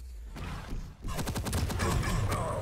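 Rocket barrage firing from a Terminator character in a co-op video game, a dense rapid volley of explosive bursts that starts about a second in and keeps pounding loudly to the end.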